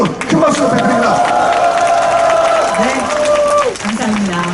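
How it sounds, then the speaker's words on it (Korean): Crowd applause for the staff at a rally in front of Sungnyemun, steady and loud throughout, with a sustained voice over a loudspeaker running on top of the clapping. "스태프분들을 위해서도 큰 박수 부탁드립니다"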